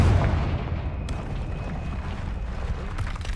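A Confringo fire spell detonates in Hogwarts Legacy amid troll-wrecked debris, a loud booming burst at the start that rolls into a sustained rumbling roar, with no talking.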